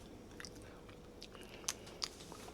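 A spoonful of corn tamale mixture for Belizean chicken tamales is tasted and chewed, with soft mouth sounds and two brief, sharper crunchy bites close up, quiet and without talk.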